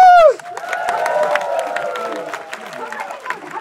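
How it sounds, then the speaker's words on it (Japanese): A stage audience breaks into loud clapping and cheering for a person brought up on stage, a dense crowd wash that follows a short ringing tone, with a voice talking over it. "今こんだけの皆さんに拍手"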